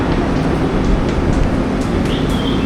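Patna Metro train running with a steady, loud broadband rumble and rolling hum, continuous throughout with faint higher squeals near the end.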